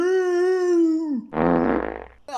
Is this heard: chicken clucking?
no